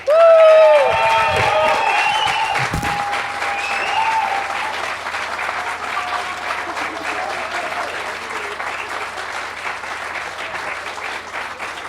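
A large festival crowd at 2000trees applauds loudly, a dense wash of clapping that stays steady and slowly eases off, with a few cheers near the start.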